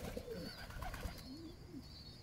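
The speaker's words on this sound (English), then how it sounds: "see, all the pigeons want to eat" Pigeons coo softly in short, low rising-and-falling calls over steady outdoor background noise while they gather to feed, fairly close and without any talking.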